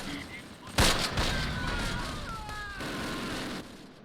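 Gunfire and explosions in the World War II strategy video game Close Combat, one sharp loud blast followed by a sustained rumble of distant shooting and battle noise.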